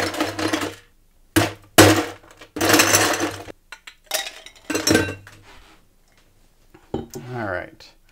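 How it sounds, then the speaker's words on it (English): Ice added to a cocktail glass for a three-ingredient drink, then stirred, giving bright clinks and rattles of cubes against glass in short bursts, interleaved with someone speaking. "And now we're going to add our ice, and then we're going to stir."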